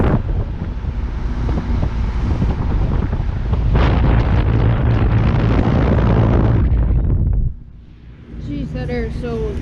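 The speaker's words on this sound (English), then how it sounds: "here we have a little 2000 Lennox Elite Series heat pump running in heat mode" A 2000 Lennox Elite HP29 2-ton heat pump running in heat mode outdoors. A loud, close, whooshing fan roar holds steady, then drops off sharply near the end before some quieter sound returns.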